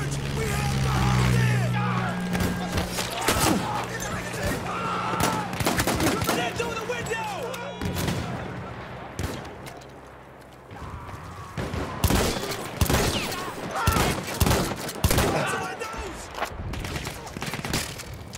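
Heavy battlefield gunfire from the video game Battlefield 1: dense bursts of rifle and machine-gun shots crackle throughout, with a low engine drone underneath early on and voices talking over the shooting.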